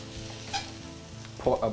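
Chopped vegetables sizzle steadily in a pan as a fork stirs them, with a soft continuous fry and a few louder scraping stirs clustered near the end.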